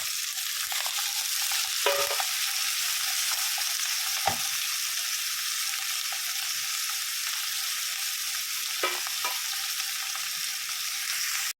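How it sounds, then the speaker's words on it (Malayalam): Sliced onions sautéing in garlic paste for a mushroom masala curry, giving a steady, continuous sizzle in the pan with a few brief stirring scrapes and no talking. "വെളുത്തുള്ളി പേസ്റ്റ് വഴണ്ട് വന്നിട്ടുണ്ട് അതിലേക്ക് അരിഞ്ഞു വെച്ചിരിക്കുന്ന സബോള ഇട്ട്"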